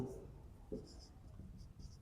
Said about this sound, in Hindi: तो मैं यहाँ पे लिख लेता हूँ